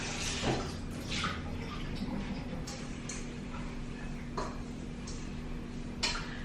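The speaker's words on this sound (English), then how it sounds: "I'm just gonna rinse this bowl out" Water runs steadily from a kitchen tap while a bowl is rinsed beneath it, a continuous wash of splashing with a few brighter clinks and splashes standing out along the way, no talk over it.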